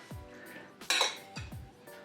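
Pineapple pieces being dropped into a bowl for a Chinese cabbage salad, three quick clinking knocks against the dish with a brighter clatter in the middle, close and clear.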